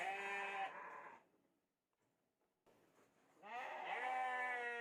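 A pregnant sheep bleats twice, close and fairly loud, with a quiet pause between the two wavering calls; no talk over it.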